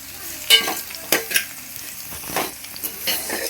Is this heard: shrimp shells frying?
yes